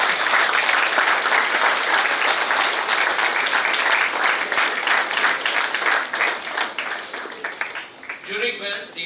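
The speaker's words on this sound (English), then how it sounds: "Let's give her a big round of applause because she's watching us." A large audience gives loud, sustained applause for Madam Sony at a celebration honoring Nelson Mandela, thick continuous clapping that thins out near the end as a voice starts to speak.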